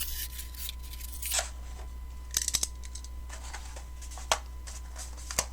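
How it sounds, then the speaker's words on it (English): Scissors snip down the center of a used wrapping paper tube in a quiet room, giving several short, sharp cutting crunches spaced irregularly. "And you're just going to cut one of them right down the center."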